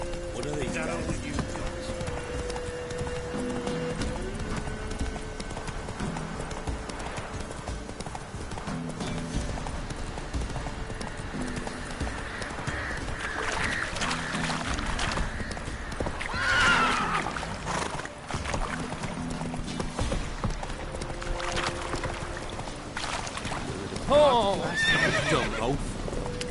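The horse Roach gallops in a PS4 video game, its steady clip-clop of hooves running throughout with whinnying neighs, under game music and a player talking.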